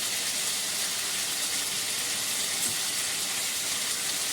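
Potatoes frying with a little salt in a pan, a steady broadband sizzle held at an even level with no pauses and no talk.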